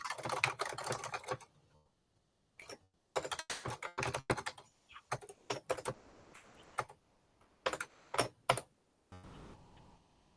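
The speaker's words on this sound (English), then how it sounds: "Do some typing there." Someone types on a computer keyboard in quick clattering bursts of key clicks, separated by short pauses, close and clear with no talking.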